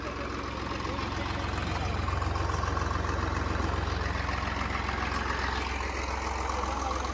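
A heavy tractor engine idles steadily with a low, continuous rumble and faint background noise.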